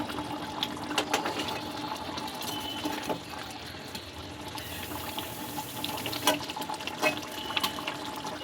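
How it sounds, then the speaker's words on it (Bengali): Water poured from a tap into a cooking pot holding potatoes and eggs, a steady close splashing fill with small clatters, no voices. "এবার আমি একটু আলুটা সেদ্ধ হওয়ার জন্য পরিমাণ মতো একটু জল অ্যাড করে দেবো"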